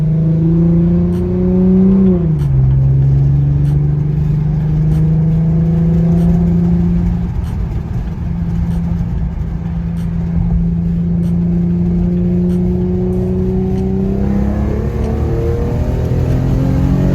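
An Infiniti Q50 engine with a Tomei exhaust revs hard, its pitch climbing, dipping sharply, then holding a steady drone before rising again near the end, close and loud with no talk.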